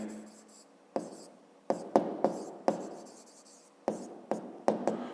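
Pen writing by hand on paper for a math exercise answer, a series of quick scratchy strokes and taps with short pauses between, close and fairly quiet, no talking.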